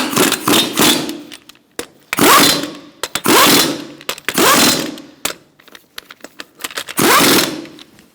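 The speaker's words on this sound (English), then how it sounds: "We're going to tighten these in a star-like pattern." Wheel lug nuts on a 2002-2006 Toyota Camry driven tight with a 21mm socket: several loud, close, buzzing rattle bursts from a power tool, separated by short pauses and small clicks.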